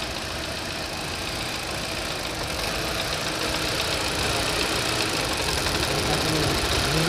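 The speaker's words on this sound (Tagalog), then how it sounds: "malakas ng lakas yung vibration" A Hyundai Accent engine, running with a misfire, idles with a constant rough rumble and vibration heard close up, steady and loud throughout with no talking.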